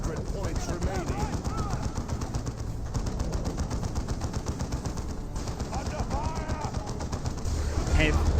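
Rapid gunfire crackles continuously in a Dawn of War 2 battle, dense staccato bursts of weapons fire packed tightly together under a busy game soundscape.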